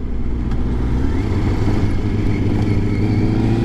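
A Triumph Daytona 600 sport motorcycle engine accelerates, heard from the rider's position. The loud, steady engine roar runs continuously through the short clip with no talk.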